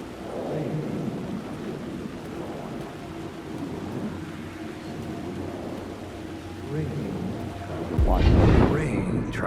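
Steady rain and rumbling thunder in the video game Alan Wake 2 fill the scene, with a heavier crack of thunder or impact near the end.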